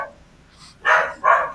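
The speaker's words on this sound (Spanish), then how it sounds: "No sabía que él estará ladrando." A neighbor's dog barks twice in quick succession at a distance outdoors at night, two short sharp woofs after a faint whine, over quiet background.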